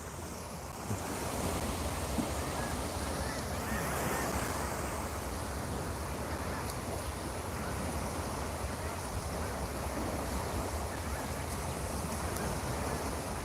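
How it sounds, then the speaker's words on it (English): Surf rolling onto the beach at Cape May, New Jersey at sunset, a steady broad wash of waves heard from some distance up the sand, with wind noise on the microphone and no talking. "Can you guys hear the ocean at all, or you want me to go a little closer to the water?"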